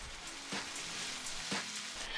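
Pork chops frying in a pan, a quiet steady sizzle with faint crackles and two soft scraping swells about a second apart, close and low in level.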